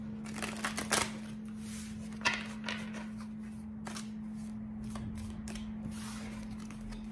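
Tarot cards riffle and snap in short bursts over a low steady hum, quiet and close, with brief pauses between shuffles.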